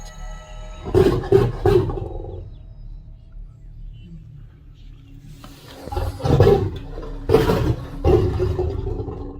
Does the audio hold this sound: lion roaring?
yes